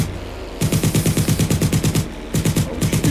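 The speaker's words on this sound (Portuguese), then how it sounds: "Olha o tiro, olha o tiro" Rapid automatic gunfire in the video game GTA 5 roleplay, loud bursts of tightly spaced shots firing in two long runs with a brief pause between them.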